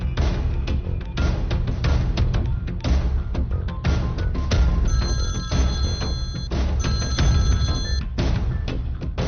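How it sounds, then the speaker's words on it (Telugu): A telephone rings repeatedly in a comedic scene, its electronic bell tones cutting over a steady bed of loud background music throughout. "దుగ్గల్ కి ఫోన్ కొట్టు"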